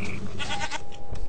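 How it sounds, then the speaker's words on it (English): A goat bleating in the Minecraft Technic modpack video game, one loud close wavering bleat over a steady bed of game background sound. "Goat!"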